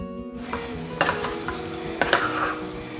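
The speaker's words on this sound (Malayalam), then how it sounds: "അപ്പോൾ നമുക്ക് ഈ ഉരുളക്കിഴങ്ങ് ചിക്കനിലേക്ക് ചേർത്ത് ഈ മസാലയിൽ നന്നായിട്ടൊന്ന് വീണ്ടും മിക്സ് ചെയ്തെടുക്കാം" Potato and chicken stirred into masala in a pan for a chicken curry, with a spoon scraping and clinking against the pan at irregular intervals over a soft steady sizzle.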